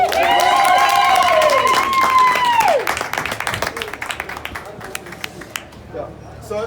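Crowd applause after congratulations at Tashas in Bedfordview: clapping rises under a sustained sung or held tone that fades after a few seconds, leaving scattered, thinning claps and a few cheers as the room quiets.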